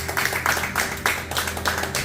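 A church congregation at an evangelistic service claps in a quick, regular rhythm, with sharp repeated hand claps close by over a low background hum.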